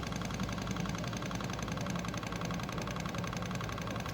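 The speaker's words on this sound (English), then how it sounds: "let me give it a couple cranks, see what it does" A Honda Shadow bobber motorcycle engine cranks during a starter-solenoid install, giving a steady, faint low mechanical churning that never clearly catches, with no talk.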